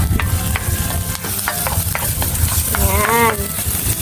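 Garlic and onion frying in a pan while being stirred, a steady loud sizzle with scraping utensil strokes, and a brief voice speaking partway through.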